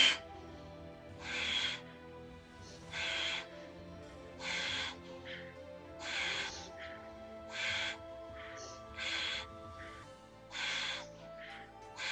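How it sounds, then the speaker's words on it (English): Forceful Kapalabhati yoga breathing, with sharp, hissing breaths pushed out in short, steady pulses roughly every one to one and a half seconds over soft background music, close and fairly loud. "Okay, inhale deeply. Go ahead."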